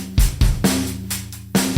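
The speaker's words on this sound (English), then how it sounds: "I'll play the drums." A drum kit played in a short burst of about four punchy hits, loud and close with a deep low thump on each strike, no voices.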